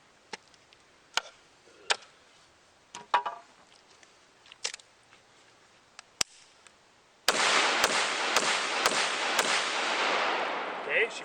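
An AK rifle chambered in 5.45 fires 7N6 ammunition with its dust cover closed. After several seconds of scattered faint clicks, a loud run of sharp, closely spaced shots rings out over a heavy continuous roar.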